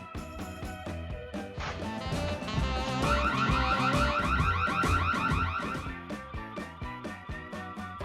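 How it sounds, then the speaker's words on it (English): A loud car alarm blares in cycling electronic patterns, switching between rapid warbling and pulsing tones for several seconds. "A sensitive alarm system is every car thief's worst nightmare."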